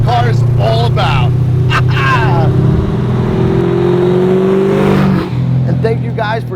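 A 1969 Chevrolet Camaro SS with a 490ci engine and Pro-Touring build drives along, its loud V8 drone rising as it revs, then dropping sharply on a downshift, while someone talks over it.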